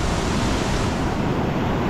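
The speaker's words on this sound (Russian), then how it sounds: "Смывает пляжи сегодня просто напрочь." Stormy sea waves wash over a beach in Crimea in a constant, loud roar of surf, mixed with wind buffeting the microphone.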